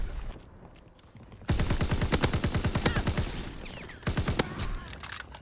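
Call of Duty WWII gameplay with rapid bursts of gunfire, a long run of automatic shots followed by a short later burst and a few single cracks, close and sharp.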